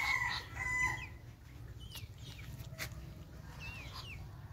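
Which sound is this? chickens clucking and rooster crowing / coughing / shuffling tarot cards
chickens clucking and rooster crowing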